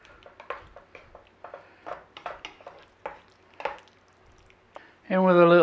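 Cooked ricotta and spinach tortellini are stirred through a creamy roasted red pepper sauce in a pan, giving soft, irregular wet squelches and spoon scrapes close by, before a sudden loud burst of music at the end.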